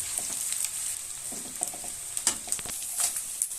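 Ingredients fry in a generous amount of ghee, a soft steady sizzle with scattered crackles and occasional stirring scrapes, close by and fairly quiet.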